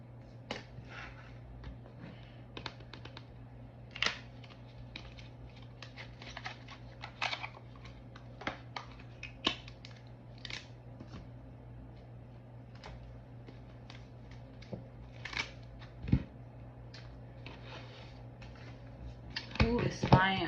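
Soft, irregular clicks and riffling taps of a tarot deck being shuffled close by, coming in small bursts against a low steady hum, with a brief louder clatter near the end.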